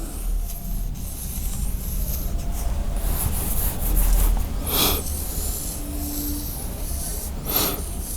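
A pen scratches out a diagram of the sole of the foot in soft, repeated rubbing strokes on paper, close and steady with no talking.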